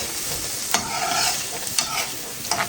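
Onion fries in a pan for borscht with a steady close sizzle, punctuated by three sharp scraping stirs of a utensil at regular intervals, with no voices.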